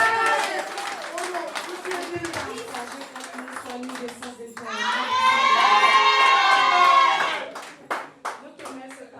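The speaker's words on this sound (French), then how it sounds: "On peut applaudir pour ça." Wedding guests at a civil ceremony clap and cheer, first scattered applause with voices, then a loud burst of shouting and cheering that builds and fades while clapping continues.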